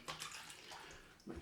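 Water running from a tap in a bathroom during a straight-razor shave, a soft, steady splashing stream that swells briefly near the end.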